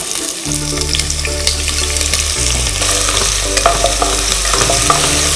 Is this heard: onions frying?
yes